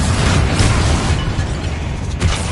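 A Confringo fire spell explodes in Hogwarts Legacy as a loud, sustained roaring blast with heavy low rumble that carries on through the whole stretch without any pause.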